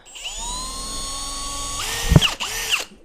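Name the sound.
drilling holes in plastic dividers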